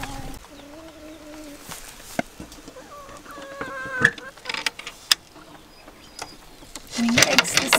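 Hens on a homestead cluck and murmur in short, drawn-out calls, fairly close, with scattered knocks and a louder burst of clucking near the end, and no talking.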